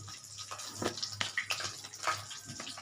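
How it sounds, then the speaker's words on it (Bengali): Warm water poured in small splashes into a fish curry of hilsa with potato, brinjal and pumpkin, a close, uneven trickle and burble with brief gurgles. "একটু একটু গরম জল দিয়ে দিচ্ছি"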